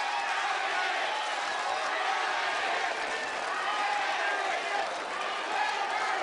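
A tennis crowd at an ATP final in Shenzhen makes a broad, steady roar of murmuring and cheering that holds evenly throughout, without clear breaks.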